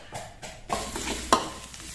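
Food hits a hot wok with a sizzle, followed by scraping and stirring, with one sharp clank partway through.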